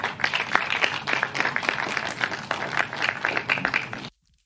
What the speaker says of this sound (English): Please give a round of applause for Alaba.